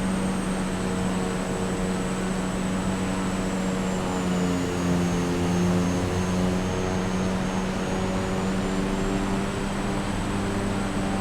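A Cessna 208B Grand Caravan EX turboprop engine in a flight simulator game, throttled back in flight: a steady, loud, continuous drone with a low hum and a faint high whine that shifts slightly in pitch, with no talking.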